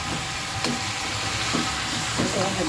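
Bone-in mutton frying for degi korma, a dense steady sizzle and hiss with a few soft stirring scrapes spaced apart, close and moderately loud, no talking.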